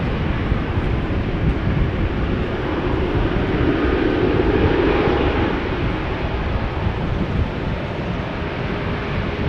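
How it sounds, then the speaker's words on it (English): A Boeing 777-300 airliner departing rainy, wet Amsterdam Schiphol for Dubai, its jet engines a steady low rumble and rush mixed with wind buffeting, swelling slightly midway. "Flight 146 to Dubai, 777-300 being preceded by ITA Airways to Rome."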